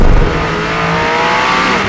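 A McLaren 600LT sports car on Trofeo tyres accelerates hard, its engine a loud, close, rising roar held steadily for a couple of seconds, with no talk.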